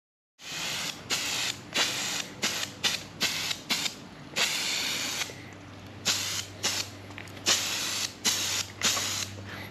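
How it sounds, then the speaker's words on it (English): An aerosol spray can hissing in a string of short bursts, about a dozen, a few held longer, close and fairly loud. "This new Rust-Oleum spray can thing is"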